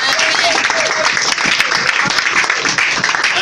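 Church congregation applauding during a deliverance service, loud close clapping throughout with voices mixed in underneath.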